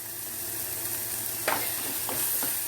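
Shallots sautéing in a pan with a little salt, a continuous soft sizzle with a few brief spatula scrapes, close and moderately quiet.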